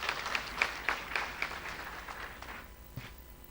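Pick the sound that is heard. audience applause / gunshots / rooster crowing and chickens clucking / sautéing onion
audience applause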